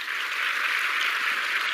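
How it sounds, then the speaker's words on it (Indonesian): Steady dense audience applause at an Indonesian Santri Day address by the Minister of Religious Affairs, a continuous hiss-like patter holding level for under two seconds with no talk. "Tepuk tangan untuk mereka ya."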